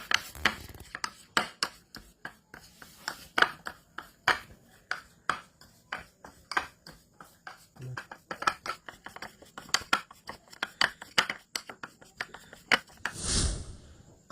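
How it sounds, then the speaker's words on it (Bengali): Jaggery being mixed together with a powder by hand, giving a steady run of close, dry scraping and rubbing strokes in an irregular rhythm, with a brief louder rustle near the end and no talking. "একসাথে আমি মিশিয়ে নিতেছি, আপনিও ঠিক এইভাবে মিশাতে হবে"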